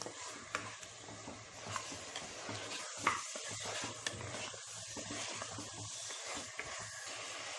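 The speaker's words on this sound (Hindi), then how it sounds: "फ्लेम को हाई पे रख के गोश्त को प्याज के साथ बहुत अच्छे से भूनना होगा हमें" Bone-in mutton frying with onions in a pan on high flame, a steady broad sizzle with scattered stirring scrapes and clinks of a utensil against the pot, close and fairly loud throughout.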